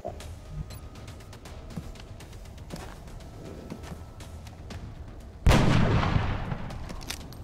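Sniper rifle shot in the video game XCOM, a single loud booming report with a rolling tail late in the clip, preceded by faint clicks and background game ambience.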